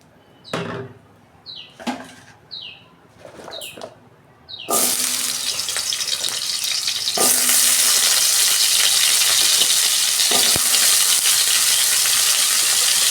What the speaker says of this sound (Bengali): ওই কড়াতে আমি তেল দিচ্ছি, সবজিগুলো 2 মিনিট আমি ভেজে নেব।